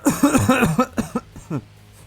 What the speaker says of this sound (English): Oh my god, I keep coughing today.